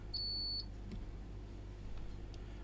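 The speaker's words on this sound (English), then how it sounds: "Right, two on the buzzer. I think that means we can go." A single short electronic buzzer tone sounds early in a train simulator cab on the Great Eastern Main Line from Ipswich to London, then fades into a quiet low hum.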